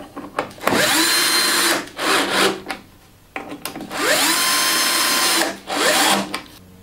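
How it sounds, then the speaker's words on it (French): Power screwdriver driving screws to fix a safety guard onto the fence of a Titan and Mac Allister jointer-planer, two long high-pitched whining bursts with short stops and slowing wind-downs, close and loud, no talking. "On le visse sur le côté."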